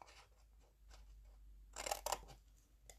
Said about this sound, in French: Je coupe.